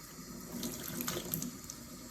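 Makeup brushes rinsed under a running tap, a steady close splashing stream of water with small irregular spatters and no voices.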